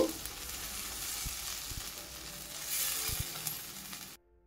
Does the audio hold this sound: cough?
no